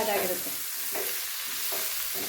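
Bitter gourd frying in a pan, a steady close hiss and sizzle with a few soft stirring scrapes.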